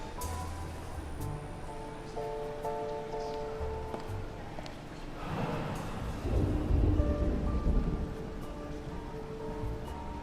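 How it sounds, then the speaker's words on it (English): A thunderstorm in a video game rolls in with steady rain, a swelling low rumble of thunder building midway, and quiet musical tones underneath, moderately loud throughout. "You think it's going to be a quiet day, and suddenly the storm hits you."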